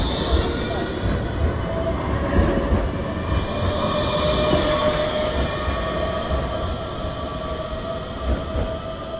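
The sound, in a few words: tram passing on street tram line in Nottingham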